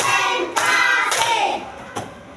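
Children clap their hands in a counted clapping game in a classroom, giving a few sharp, loud claps spaced unevenly over a busy background of voices.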